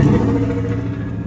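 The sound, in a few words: V8 engine car revving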